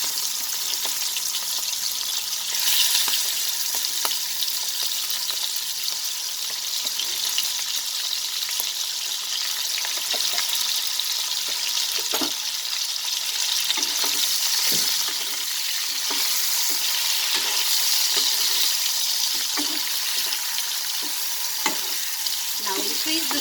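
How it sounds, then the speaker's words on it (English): Prawns frying in smoking-hot mustard oil over a lowered flame, with a steady close sizzle and scattered scrapes and clinks as they are stirred, no voices. "So reduce the flame and drop in the prawns gently into the hot oil."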